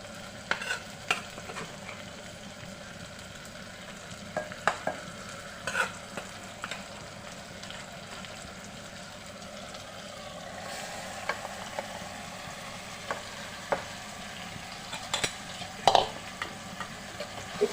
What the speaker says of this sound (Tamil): இப்போ வந்து நம்ம மட்டன் ஆட் பண்ணிக்கலாம்.